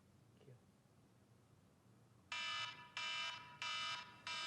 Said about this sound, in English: you probably rolled over to your phone to hear that emergency alert sound go off